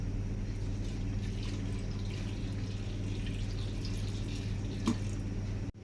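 Water runs and pours steadily into a pressure cooker at low volume over a faint hum, continuous until a sudden stop at the end.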